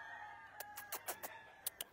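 Roosters and chickens in a cockfighting rooster yard, several crisp crowing and clucking calls in quick succession, fairly close and clear, over a faint background hum with no talk.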